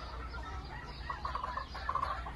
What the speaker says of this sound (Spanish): Aquí con los gallos.